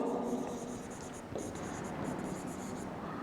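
Pen scratching on paper during a chemistry lesson on alcohols and phenols, a close, soft run of short strokes with a brief pause midway.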